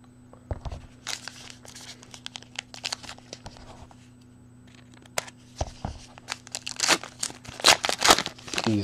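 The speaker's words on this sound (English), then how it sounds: "Let me get my scissors out for these." Scissors snip and crinkle through the foil wrappers of Panini Diamond Kings baseball card packs during a case break, with sharp cuts and rustling that grow busier and louder toward the end.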